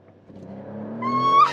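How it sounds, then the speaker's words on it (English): A Porsche 911 Turbo S hybrid launches hard under launch control, its engine note climbing steadily in pitch and loudness over a second and a half into a strong, rising roar. "Launch control with Leah."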